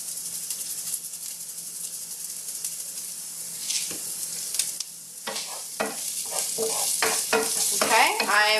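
Sliced garlic and crushed red chili flakes hit hot oil in a pan and sizzle with a steady, close hiss, joined by scraping stirs and sharp crackles that grow busier toward the end.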